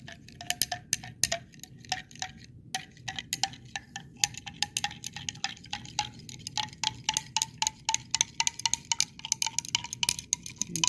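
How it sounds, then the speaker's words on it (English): A spoon stirs salt into a glass of water, giving repeated light clinks and taps against the glass in an irregular steady rhythm, close and fairly quiet, with no talking. "I'm doing a lot of stirring."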